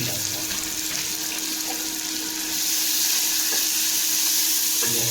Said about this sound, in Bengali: তেলটা ভালো এরকম না করে ডাইরেক্ট একদম দিয়ে দিলাম এখানে পেঁয়াজটা